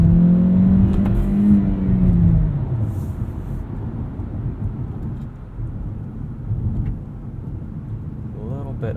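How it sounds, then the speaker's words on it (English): A 2017 Hyundai Sonata Plug-in Hybrid's gas engine kicks on under full throttle, a loud low rising drone that swells for a couple of seconds and then settles into a steady rumble of cabin road noise, recorded binaurally inside the car. "So I'm going to floor it here. You'll hear the gas engine kick on."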